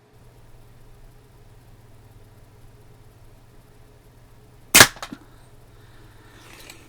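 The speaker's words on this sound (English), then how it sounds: "Now I'll take one shot at our sighter" A single sharp crack from a scoped Daisy 853 single-stroke pneumatic air rifle fired at a target, loud and close, followed by a couple of small clicks and quiet background hum.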